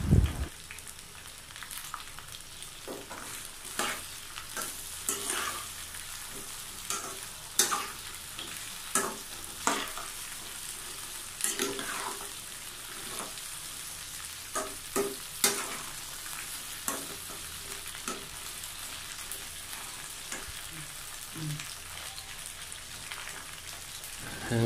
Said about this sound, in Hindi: भिंडी को फ्राई कर लेंगे अच्छे तरीके से